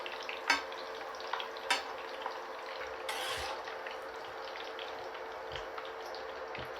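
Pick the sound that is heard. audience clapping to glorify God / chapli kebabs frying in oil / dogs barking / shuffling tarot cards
chapli kebabs frying in oil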